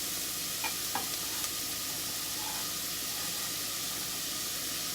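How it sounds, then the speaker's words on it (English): Steady sizzle of food frying in a minimal amount of olive oil on medium heat, a constant hiss with a few faint clinks near the start. "I love the sound of frying."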